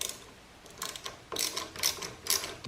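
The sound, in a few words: motorcycle lever adjuster being spun, clicking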